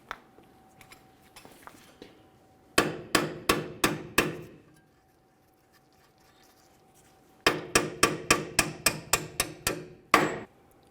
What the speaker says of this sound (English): We'll drive the bolt up and out of here